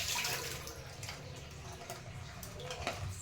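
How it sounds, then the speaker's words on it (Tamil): Tap water runs steadily while raw meat is rinsed and washed in a home kitchen, a continuous close splashing rush with small bursts as the pieces are turned under the stream. "நல்லா இந்த தண்ணி வந்து சுத்தமாக இருக்கணும். அப்போ வரைக்கும் கழுவிட்டே இருங்க."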